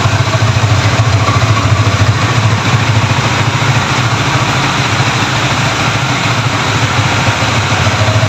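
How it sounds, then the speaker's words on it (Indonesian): A Honda CBR motorcycle engine idles steadily while warming up, a continuous low rumble running close and loud with no talk over it, outdoors in rain. "Motornya kita panasin dulu ya, biar hangat ya."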